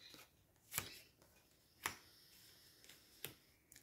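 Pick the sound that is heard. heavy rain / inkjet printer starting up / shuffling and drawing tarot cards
shuffling and drawing tarot cards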